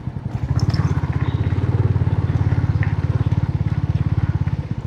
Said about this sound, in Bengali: এখন আমরা স্টার্ট করলাম মোটরসাইকেল